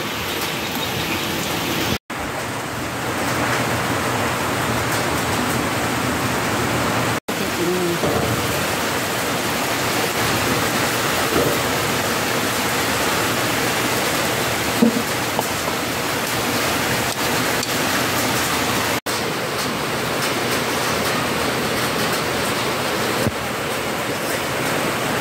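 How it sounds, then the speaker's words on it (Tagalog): Heavy rain pours down steadily, a dense continuous hiss with no pauses, close and loud throughout. "Ulan yung naririnig, pasensya na kayo."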